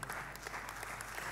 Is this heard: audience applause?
yes